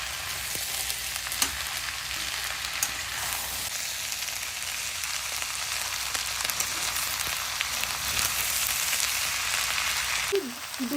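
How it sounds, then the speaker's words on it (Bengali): Food seasoned with ground black pepper fries lightly in a pan, giving a steady, close sizzle that runs without a break and ends in a brief clatter. "মিক্স করে আমি একটুখানি ভেজে নেব হালকা।"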